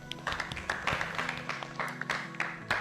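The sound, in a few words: children clapping in a classroom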